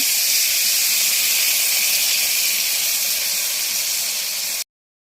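Water poured into a hot pan of frying hilsa fish and spices, giving a loud, even steam hiss that holds steady for several seconds before cutting off sharply.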